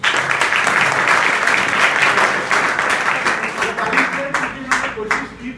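Students in a school classroom applaud together, dense rapid clapping filling the room, fairly loud and close, gradually thinning into scattered claps with some voices underneath.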